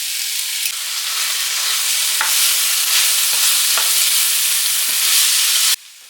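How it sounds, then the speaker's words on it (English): Chili beans tipped into a pan for a one-bowl meal, a loud steady sizzle with a few stirring scrapes, ending abruptly. "I'm going to put in a 1/2 cup of chili beans."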